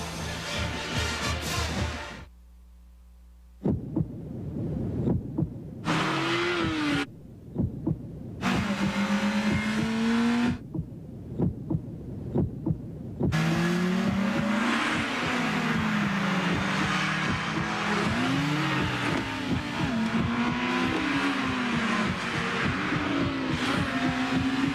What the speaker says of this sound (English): The Acura RSX, one of car and driver's 10 best for 2002